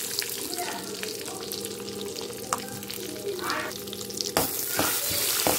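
Cashews frying in ghee or oil in a pan, a continuous close sizzle with occasional stirring scrapes that grows brighter and louder near the end, with faint background sounds but no clear talking.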